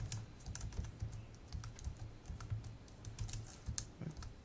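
Rapid typing on an unfamiliar computer keyboard during a coding session, a steady stream of close, crisp key clicks and thocks with brief pauses, no voices.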